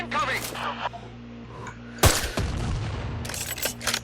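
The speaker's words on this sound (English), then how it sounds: "Start firing the mortars!" Explosive booms and bursts of gunfire from mortar shelling in the video game Sniper Ghost Warrior 3, with a heavy impact near the middle, scattered blasts afterward and a steady low hum running underneath throughout.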